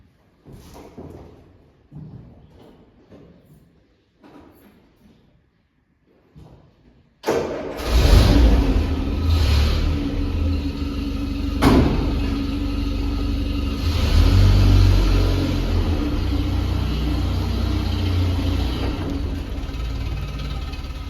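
A Land Rover Series 3 engine cranks and catches with the choke out, then settles into a loud, steady idle that runs on continuously after a few quieter rattles.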